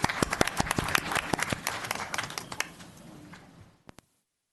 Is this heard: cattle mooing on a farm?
no